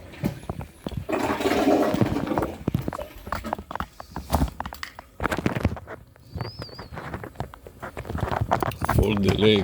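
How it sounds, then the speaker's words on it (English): A toilet flushes with a loud, rushing surge of water that fades out, mixed with speech and some rustling handling noises. "Flush this toilet."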